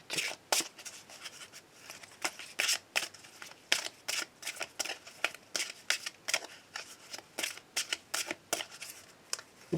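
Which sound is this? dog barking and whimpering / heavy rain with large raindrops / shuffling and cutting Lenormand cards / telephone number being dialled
shuffling and cutting Lenormand cards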